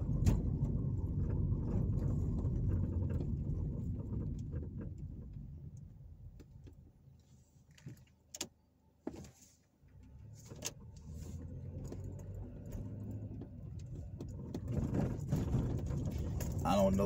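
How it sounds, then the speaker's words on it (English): Car driving along Powell Street near downtown Evansville, Indiana, a steady low engine and road rumble inside the vehicle that dips briefly midway with a few clicks before resuming. "right now I'm driving down Powell Street here in Evansville"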